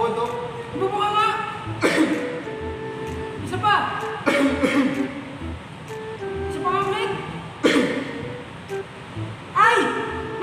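A person coughs several times in short, sharp bursts spaced a few seconds apart, heard among lively talk.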